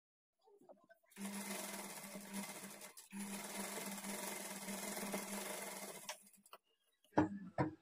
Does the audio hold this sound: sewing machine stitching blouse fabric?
yes